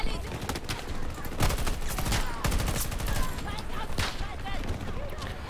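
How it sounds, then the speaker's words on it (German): Rapid bursts of gunfire in Battlefield 2042, loud and close with repeated sharp shots across the stretch, while a player talks over the shooting. "ich schieß mir gerade so einen ab hier"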